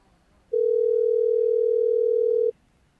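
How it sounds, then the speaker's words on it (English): A single steady electronic phone ring tone sounds for about two seconds, clear and loud, then stops into near silence. "A ringtone."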